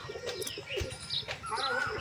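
Black pigeon chicks give thin, high cheeping calls with soft coo-like notes, close and almost continuous, with no talking.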